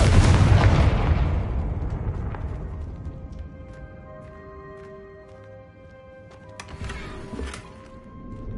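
A Confringo blasting curse goes off in a Harry Potter video game as one loud, booming explosion that rings out and slowly decays, with a second, softer burst near the end.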